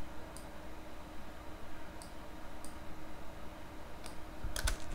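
A few sharp computer keyboard keystrokes spaced out over a steady background hum, ending in a quick burst of clustered key presses, with no one talking.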